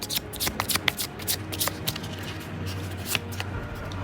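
Tarot cards being shuffled and drawn by hand during a Thai astrology reading, a quick flurry of crisp riffling snaps and card slaps close by, then softer sliding and handling.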